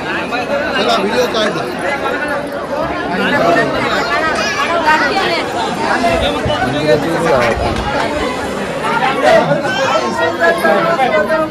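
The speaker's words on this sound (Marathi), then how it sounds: "गर्दीच गर्दी." Dense crowd chatter from many voices at a busy Hindu temple during a family pilgrimage, a continuous steady babble with no single voice standing out, filling the full span at even loudness.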